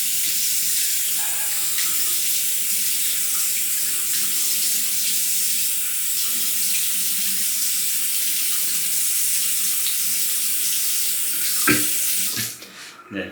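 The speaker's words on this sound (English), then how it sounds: "And let me just rinse up real quick here." Tap water runs steadily into a sink while shaving gear (a badger brush and a Japanese frameback razor) is rinsed, a continuous close splashing hiss that ends with a few brief clatters near the finish.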